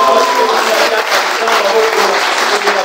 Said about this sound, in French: j'aimerais que tu acclames encore très fort le Seigneur